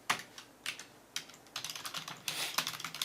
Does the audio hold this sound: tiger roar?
no